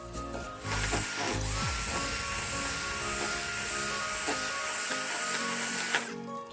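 An electric blender whirs steadily through chocolate cake batter made with flour and powdered sugar. It gives a continuous mechanical buzz with a rattling edge that starts abruptly and stops near the end.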